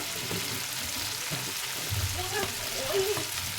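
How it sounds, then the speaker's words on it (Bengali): Potatoes and tomatoes are stirred together in a frying pan, a continuous sizzle with soft scraping and clunks of the spoon against the pan, moderately quiet with no talk. "আলুটাও ভালো করে আমি টমেটোর সাথে নাড়িয়ে নেব।"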